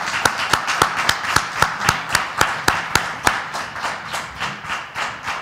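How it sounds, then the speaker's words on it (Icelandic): Applause rings out at a presentation event in Reykjavik City Hall, a run of sharp, evenly spaced claps that stays brisk and close before gradually softening. "Gefum þeim gott klapp."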